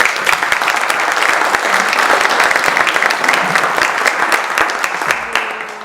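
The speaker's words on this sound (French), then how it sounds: "je vous demande de l'applaudir bien fort" An audience at a conference talk on Mediterranean diet and health breaks into loud, sustained applause, dense clapping filling the room steadily before it begins to fade at the end.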